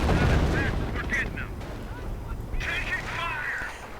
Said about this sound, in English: And on map, howitzers ready.